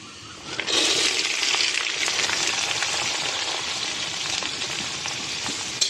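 Lentil dumplings frying in a pan with potato and eggplant, a loud, steady sizzle and crackle that continues without a break, close up and alone.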